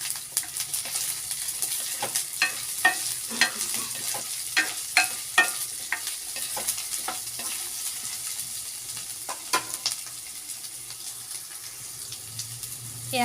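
Turmeric and spices frying in a pan with potatoes and a split green chili, for a banana-flower stir-fry: a constant sizzle under repeated spoon scrapes and taps at a loose, uneven rhythm, close and fairly clear.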